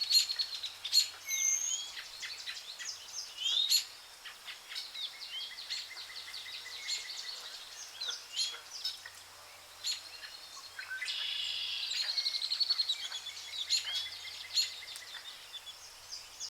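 Birds in a Tahiti jungle valley call over a quiet background: shrill chirps, whistles and trills overlap, some close and sharp, others fainter, with a denser burst of song partway through and no voices.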